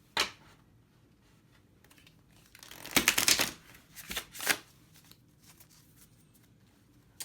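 Thin-cardstock Barnes & Noble tarot cards are shuffled close by. A short riffle comes first, then louder bursts of flicking and riffling in the middle, with quiet pauses between them.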